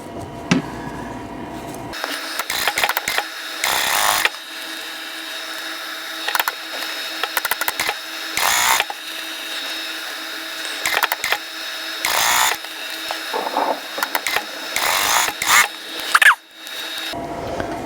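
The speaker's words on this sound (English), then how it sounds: "We're going to sew this side." A sewing machine runs stitch seams on a quilt block in bursts, whirring runs separated by pauses, with light handling clicks and fabric rustle in between, fairly close and without talk.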